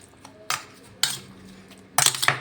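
A metal spoon clinks against a bowl while mixing salt and turmeric powder into fish fat, giving three separate scraping, clattering bursts spaced about half a second apart, close and fairly quiet.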